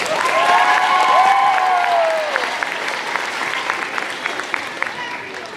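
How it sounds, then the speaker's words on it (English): An awards ceremony audience applauds warmly, with a sustained wash of many hands clapping and a rising whoop or whistle near the start. The clapping then thins and grows more scattered as it fades. "Let's just give him a round of applause."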